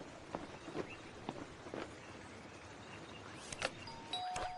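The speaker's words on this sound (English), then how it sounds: "Who could be ringing the doorbell now?" A doorbell chimes a couple of times against a quiet indoor background with faint footstep-like taps, the ringing short and tonal rather than loud.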